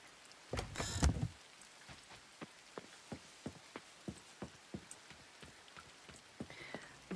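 Steady patter of rain in the farming video game Coral Island, scattered droplet ticks repeating across the scene after a brief louder burst near the start, moderately quiet and without talk.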